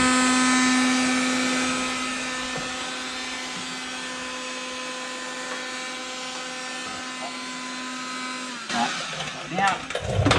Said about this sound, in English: so trust your heat gun, and we'll heat this up.